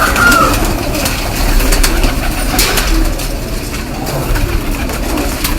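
Pigeons coo steadily amid a loft flock of pedigree pigeons, including blue, white, Sialkoti and Kasuri birds, with overlapping low calls and a busy, fairly loud background of birds close by.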